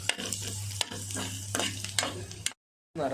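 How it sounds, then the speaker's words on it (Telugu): Mustard seeds tempering in hot oil for a cucumber-peanut curry, crackling and sizzling close up while a spoon stirs in quick scraping strokes, then a brief gap of silence before the frying resumes. "వీటిని కూడా మాడిపోకుండా అటు ఇటు తిప్పుకోండి"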